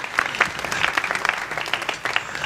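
Applause from an audience at a spring school theatre production, a smattering of distinct claps blending into steady clapping from a modest crowd.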